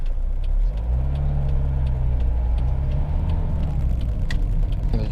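A 2003 Toyota Yaris 1.4 D-4D diesel hatchback driving over bumps, with a steady low engine drone and tyre rumble and a few soft thumps from the suspension, heard from inside the car with no talking.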